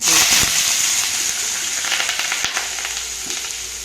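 Chana dal and small onions frying in hot oil for a horse gram sundal tempering: a loud, bright sizzle right at the start that slowly eases off, with a few stirring clicks, close up and alone.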